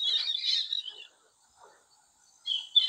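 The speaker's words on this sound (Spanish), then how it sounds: "Hay unos loros, ¿los escuchan?" Shrill, high-pitched calls from wild parrots in open countryside burst out in a noisy cluster, fall quiet for over a second, then return with a few sharp squawks.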